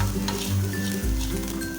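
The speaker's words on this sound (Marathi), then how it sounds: "आपल्याला ही फोडणी परत हलवून घ्यायची आहे" A brief close sizzle of a tempering with coriander and salt being stirred and fried in a pan, with a low steady hum beneath, no talking.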